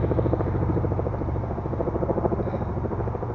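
A helicopter flies overhead, a loud continuous rumble with rapid rhythmic rotor thumping throughout.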